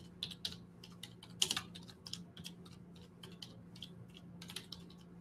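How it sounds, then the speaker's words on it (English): Fingers tap a computer keyboard in a quiet office, an irregular run of soft, crisp clicks with a few sharper keystrokes and no voices. "I'm typing it in."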